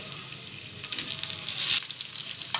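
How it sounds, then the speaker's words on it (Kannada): Coriander, onion, ginger, garlic, tomato and spices roast in a pan for a rajma sambar, giving a continuous bright sizzle with faint stirring scrapes up close and no voices. "ಕೊತ್ತಂಬರಿ ಟೊಮೆಟೊ ಈ ಮಸಾಲೆ ಎಲ್ಲ ಹುರ್ಕೋತಾ ಇದ್ದೀನಿ"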